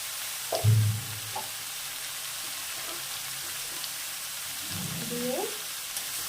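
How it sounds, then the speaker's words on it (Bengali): Vegetables with turmeric frying and being stirred in a pan, with potato, eggplant, flat beans and lentil dumplings among the greens. A steady soft sizzle runs throughout, with a couple of brief voice sounds near the start and end. "আবারও একটু নেড়ে নেব।"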